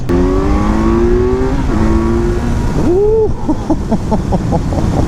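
The engine of a 2018 Kawasaki Z900 motorcycle revs up hard and close, its pitch climbing in sweeps and stepping through gears, loud over wind rush.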